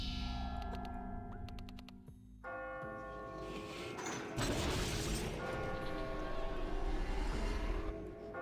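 Bell in the video game Catherine, ringing tones with sustained overtones in a busy game mix, followed by a burst of loud crashing noise and continued layered sound.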